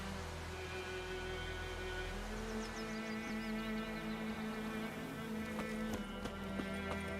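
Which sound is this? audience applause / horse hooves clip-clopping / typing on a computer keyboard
horse hooves clip-clopping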